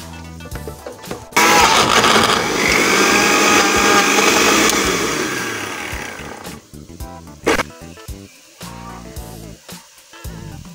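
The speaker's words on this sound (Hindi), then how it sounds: "ये टमाटर और लहसुन को हम ब्लेंडर में पीस लेंगे।" A blender roars loudly for several seconds, grinding tomatoes and garlic steadily, then winds down, followed by scattered clatter and kitchen handling noises.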